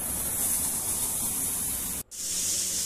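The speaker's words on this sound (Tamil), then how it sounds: "அந்த வெங்காயத்தெல்லாம் வெட்டிட்டு நம்ம வந்து அப்படியே கல்லை தூக்கி போட்டு நல்லா கொஞ்சம் லேசாக ஃப்ரை பண்ணிடலாம்." Chopped onions frying on a hot griddle make a loud, dense hiss that stops briefly for a moment before the sizzle resumes. No one speaks.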